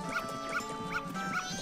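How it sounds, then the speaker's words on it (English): A dog in the video game Majora's Mask gives four short, evenly spaced yelps or barks in quick succession, close and clear, with no talking. "it seems that dog doesn't like us very much"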